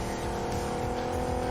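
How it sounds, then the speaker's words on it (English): A car drives in the PUBG Mobile video game, a steady close engine drone with road noise throughout, no break in the sound. "Yes, it's a car right there."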